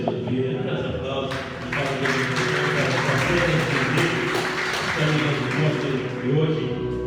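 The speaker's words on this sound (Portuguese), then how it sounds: "Dá os aplausos." A church congregation claps during a worship service, the applause mixed under music and a voice speaking throughout, moderately loud and continuous.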